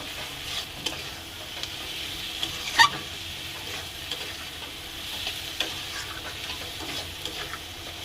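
Spice paste (masala) fries and is stirred in a pan, a soft steady sizzle with faint scraping ticks and one sharper clink, heard alone at low volume.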